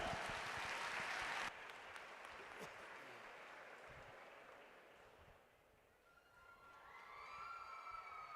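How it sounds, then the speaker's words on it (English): An audience at a youth fair steer show claps in a dense burst of applause that cuts off suddenly, then fades into a quieter crowd murmur with scattered claps and a few whistling tones near the end. "Let's go ahead and give them one more round of applause on a job well done."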